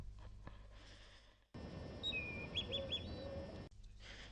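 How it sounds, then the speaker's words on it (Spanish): A recording of European robin song plays from a radio cassette outdoors: a burst of high thin whistles and trills over a hissy tape background, starting abruptly and cutting off after a couple of seconds. "un radiocassette con un canto de otro petirrojo"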